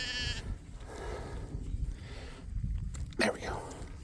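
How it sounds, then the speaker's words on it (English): Sheep on a farm bleat as they are moved into a new area of pasture, a loud bleat up close at the start and then a few fainter calls under rustling, with a person talking. "You're going to get to watch the rush of sheep."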